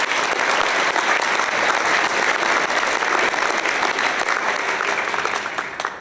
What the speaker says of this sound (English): So let's give Joyce and Karen a round of applause along with the full committee.